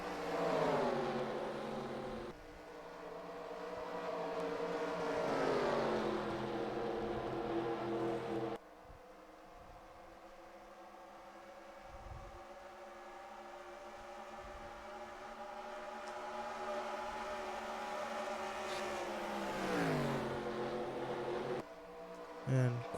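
Race car engines in NASCAR Racing 2003 at Atlanta drone and whine steadily, rising and falling in pitch as cars pass, moderately loud under commentary talk.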